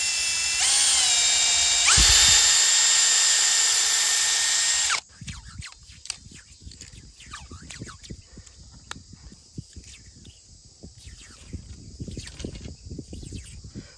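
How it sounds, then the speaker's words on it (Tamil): A power drill fitted with a small bit drills a hole in a small pipe for a homemade sugar rocket: a loud, close whine that rises once and runs for about five seconds, then stops sharply, followed by faint handling clatter. "இதில் சின்ன ஒரு ட்ரில் ஓட்ட போட்டணும்"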